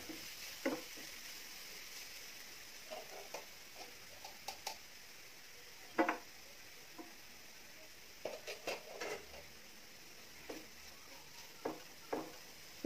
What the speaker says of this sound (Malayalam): മീഡിയം ഫ്ലെയിമിൽ വെച്ച് നമുക്ക് വഴറ്റിയെടുക്കാം.